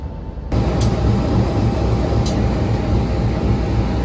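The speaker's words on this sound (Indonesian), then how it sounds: "Ini dia lokomotif dinasnya kereta Kertanegara." Idling Kertanegara train locomotive with its service diesel engine, a steady loud low rumble and a constant drone that rises in the first half second and then holds, with faint high ticks over it.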